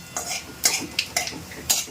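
Chicken fries in a pan with a quiet sizzle while a utensil scrapes and clinks against the metal in several quick, uneven stirring strokes, close by.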